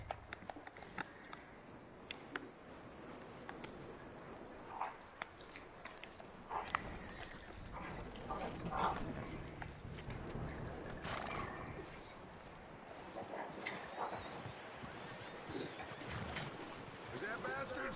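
Horse hooves from Red Dead Redemption 2 clopping steadily over a low, wind-like outdoor bed, with no voices present.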